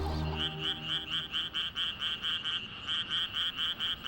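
A dense chorus of tree frogs croaking at night on Bamseom island in Seoul's Han River, in a steady, rapid pulsing rhythm, loud and continuous, with no voices.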